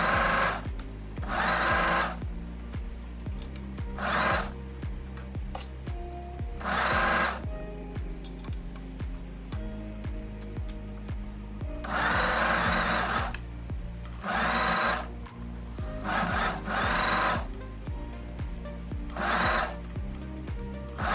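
A sewing machine stitches around the sleeve of a summer dress at a one-centimetre seam allowance, loud rapid whirring bursts repeated several times with short gaps between them.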